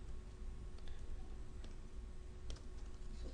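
Typing on a computer keyboard while coding a Visual Basic game, with soft scattered key clicks and a few sharper taps heard close and quiet against a faint background hiss, without speech.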